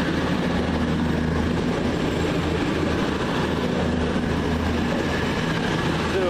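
Pioneer train 220001 passes through Wolverhampton station, a steady, continuous rumble with low engine drone and a constant broadband wash throughout, with no breaks or talk.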